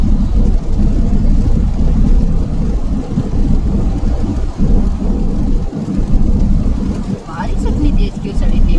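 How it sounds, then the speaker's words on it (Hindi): Rain drumming steadily on a car during a long highway road trip from Mumbai to Srisailam, India, a dense constant wash over the low engine and road rumble inside the cabin, with a voice speaking over it. "बारिश हो रही है।"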